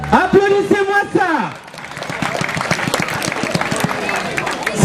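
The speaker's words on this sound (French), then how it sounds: "Applaudissez-moi ça." A crowd applauds at an aikido demonstration in Grand Médine, Dakar, a busy mass of clapping that rises after a voice calls out loudly over the start.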